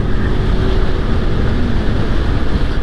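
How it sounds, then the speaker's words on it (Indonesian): A motorcycle runs at high speed, roughly 85 km/h, giving a steady, loud engine roar mixed with heavy wind rush throughout. "Tuh kita coba tes gaspol di sini dengan kecepatan tinggi"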